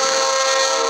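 A train horn from a Godzilla movie scene sounds as a loud, steady, blaring chord. It holds unbroken for the whole second at full strength, with no talking over it.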